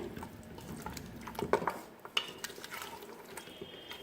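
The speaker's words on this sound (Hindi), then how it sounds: "मीडियम फ्लेम पर हम पायों को भून रहे हैं" Beef trotters being sautéed in a pot over a medium flame give a soft sizzle, with a few clinks and scrapes of a spoon against metal, fairly quiet and with no talking.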